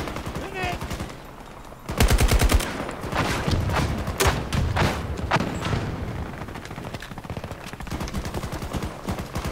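Rapid automatic gunfire from a Battlefield 2042 match rattles in long, dense bursts with booming shots and impacts, loud and close, continuing almost without pause.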